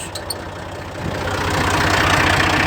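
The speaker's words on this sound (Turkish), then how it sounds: "Motorun pompalama sistemini çalıştırıyoruz. Yüksek devre getiriyoruz." Small tiller engine fitted with a soil auger, idling at first and then revving up to a steady high-RPM roar that builds louder over a couple of seconds, with no talking.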